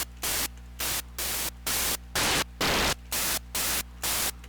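A synthesized dubstep hi-hat made from filtered noise pulses in a steady rhythm of about a dozen hissy bursts, each short and bright with sharp on-off edges, over a faint constant hum.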